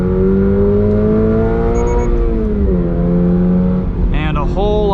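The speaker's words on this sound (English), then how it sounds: "So immediately you can notice a slightly different engine tone." A 2022 Toyota GR86 sports car engine revs and climbs in pitch, easing off briefly before surging higher again, loud and close throughout.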